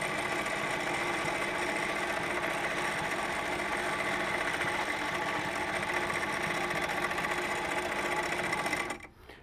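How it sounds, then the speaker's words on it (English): A sewing machine free-motion quilts fabric held in a gripper hoop, its needle running in a fast, steady, continuous mechanical whir up close for several seconds before stopping abruptly at the end. "I can simply pick my hoop up, I move it to the next go-around, and I'll just continue my quilting process"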